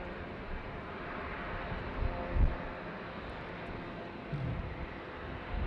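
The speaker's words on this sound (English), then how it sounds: "Let's go over to the next takeoff here." Distant airliner taking off at LAX airport, a steady broad jet roar with rumbling wind-buffeted low end, continuous and moderately loud, with no speech.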